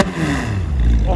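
A Renault Mégane's engine revs hard with crackling pops from the exhaust, loud and close, a low droning pitch gliding downward while a voice speaks over it.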